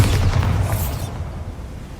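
Bombarda blasting spell explosion in the Hogwarts Legacy video game, a single loud, deep boom with a brief crackling burst that fades out over about a second.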